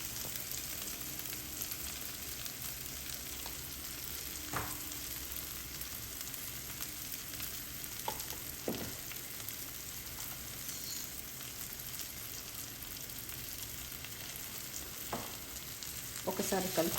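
Tomatoes with salt, chili powder and turmeric sizzle steadily in a pan, a continuous close frying hiss broken by a few sharp spoon scrapes and clicks as the mixture is stirred.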